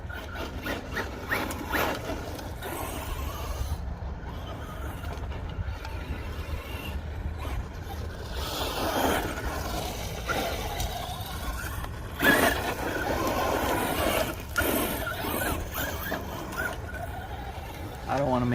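A Traxxas Slash 2WD RC car runs on a 3-cell battery, its motor whining and gravel crunching in a steady, gritty wash that rises and falls, while a person talks.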